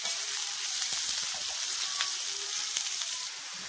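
Chopped carrots and beans frying in a pan while wheat rava upma is cooked, giving a steady, fairly quiet sizzle with faint pops and occasional stirring, and no voices.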